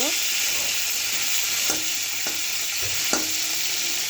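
Steady frying sizzle in a pan, with a few sharp scraping knocks of a utensil breaking apart a fried fish head, close and continuous.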